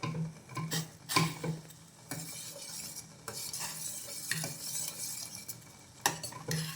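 China grass (agar) is stirred in a pot to dissolve it for a fruit jelly cake, giving quiet, repeated scraping and clinks of a spoon against metal with a faint simmer underneath.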